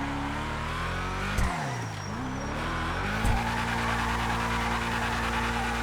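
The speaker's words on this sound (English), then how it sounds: "And everybody likes a burnout in a muscle car" Muscle car in GTA 5, a Declasse Sabre Delux, doing a burnout with steady tire squeal over a loud, revving V8-style engine drone, with two brief throttle blips, close and continuous.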